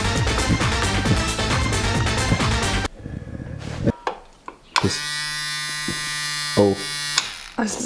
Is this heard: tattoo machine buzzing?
yes